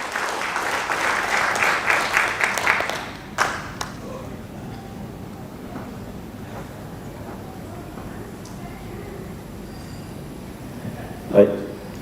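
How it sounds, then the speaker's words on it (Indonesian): A seminar audience gives a short burst of clapping for an organic fertilizer formulator, fading after a few seconds into quiet room noise with scattered taps and a speaker talking. "mari beri tepuk tangan yang meriah kepada Bapak Tarif, formulator kita"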